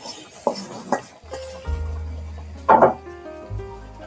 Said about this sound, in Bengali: এবার ফোড়নটা আমি এই ডালের ভিতরে দিয়ে দেব।